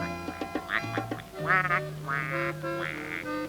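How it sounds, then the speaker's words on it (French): A duck quacks several times in quick succession, nasal and close, the later calls longer and more drawn out. "le canard descendit le courant en faisant Quack, quack, quack"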